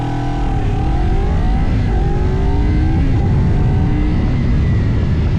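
A 2024 KOVE 250RR motorcycle on a test ride, its engine droning loud and continuous with rising and falling pitch as it revs and shifts, heavy wind rush underneath, close and steady throughout.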